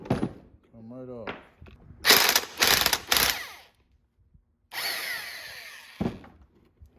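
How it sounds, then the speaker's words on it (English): An impact wrench fitted with a 27 mm socket rattles a motorcycle clutch basket nut loose in several loud, close hammering bursts, with a pause between them. Someone speaks briefly just before the first burst. "27 mil in our impact. Take this basket off."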